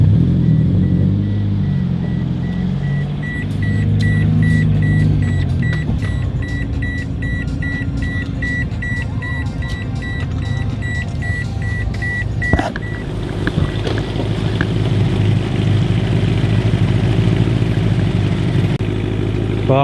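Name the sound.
BMW E92 car engine running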